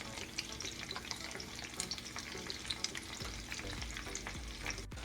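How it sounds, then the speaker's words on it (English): Potatoes and onions frying in grease in a pan, a steady close crackling sizzle with a few soft stirring scrapes near the end. "There's enough grease in here to get that first layer nice and brown like I'm looking for."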